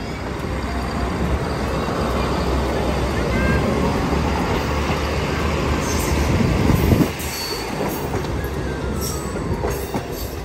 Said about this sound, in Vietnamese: Bye bye tàu lửa.